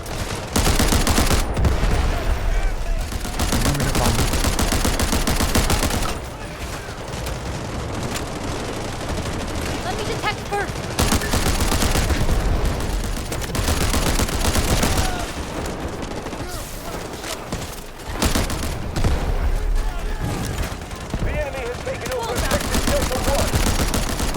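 Sustained gunfire in the video game Delta Force, Mini-14 in use: dense, loud bursts of shots and booms running through most of the stretch, broken by brief lulls, with someone talking over it at times.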